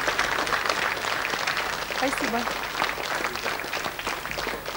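Studio audience applauding on a TV game show, steady rhythmic clapping close and full, with a voice briefly speaking over it midway.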